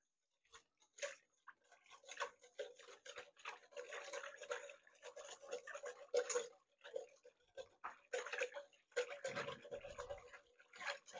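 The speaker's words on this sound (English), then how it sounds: "We're going to whisk it all together." A miso marinade with salt is whisked in a bowl, giving a wet, scraping, rhythmic swishing that runs in uneven bursts with brief pauses, close and fairly quiet.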